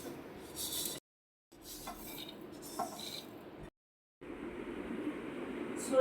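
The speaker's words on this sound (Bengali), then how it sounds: "এইভাবেই নাড়তে নাড়তে মশলাটা ভাজা হয়ে যাবে" Spices for a raw and ripe mango and garlic pickle are stirred and dry-fried in a pan: soft scraping and rattling of a spatula with a faint sizzle, interrupted by two short silent gaps.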